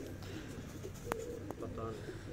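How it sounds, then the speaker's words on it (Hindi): A pearl-spotted female pigeon coos on a rooftop loft, soft low throaty coos heard faintly in the background alongside a few brief chirps. "ये मोतियों वाला एक और कबूतर है जी, ये मादा है जी, ये हमारे मोहम्मद मूसा के घर की है।"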